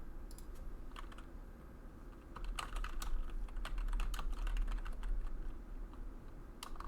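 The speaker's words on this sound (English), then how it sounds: "If we're all quiet enough, I can hear exactly which letter they're typing" Someone types on a computer keyboard nearby, a steady stream of irregular clicky keystrokes over a low background hum, with no voices.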